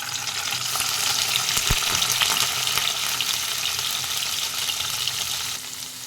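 Paneer frying in hot oil in a kadai: a dense, even sizzle close up for the whole stretch, with one sharp knock partway through.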